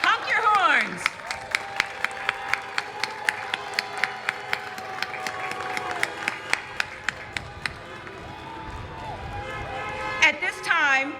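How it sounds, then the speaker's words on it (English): Sharp, evenly spaced claps ring out at an outdoor drive-through high school graduation in Linden, with car horns honking in long tones alongside and a voice speaking over it. The horns swell again near the end. "Let's give them all a round of applause one more time."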